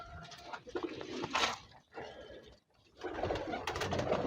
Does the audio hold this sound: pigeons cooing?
yes